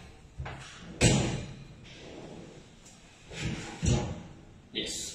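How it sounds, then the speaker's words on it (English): An aluminium kitchen cabinet's pull-out corner basket slides with several rattling, thumping runs and knocks in uneven bursts, while people talk close by. "For the corner, you can see it's the pull-out basket."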